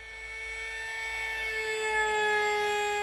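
A small HalfPipe plane in a flight video game drones steadily with a high, whining engine tone that swells slightly louder over three seconds, heard alone without talk.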